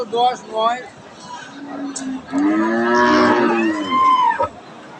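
A cow, one of several pregnant heifers at a cattle market, lets out a loud, long drawn moo after brief voices, close and prominent over background chatter.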